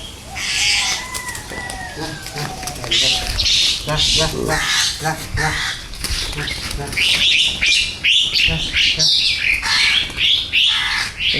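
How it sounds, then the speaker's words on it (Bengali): Rescued myna birds squawking and chirping as they fly off outdoors, loud overlapping calls with bursts of wing flutter, and people talking throughout. "চলে যাচ্ছে পাখিগুলো।"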